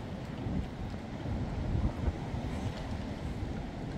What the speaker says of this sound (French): Oh, la rafale. Oh putain, le bruit.